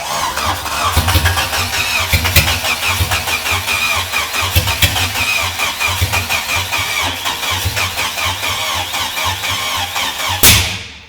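A Toyota AE92 with its ignition still being sorted out cranks over and over without catching, giving a loud, steady, rhythmic churning up close that ends with a brief sharp burst.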